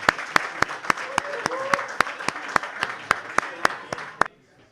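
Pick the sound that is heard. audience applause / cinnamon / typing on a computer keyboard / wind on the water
audience applause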